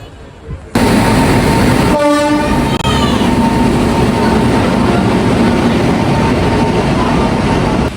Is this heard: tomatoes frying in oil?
no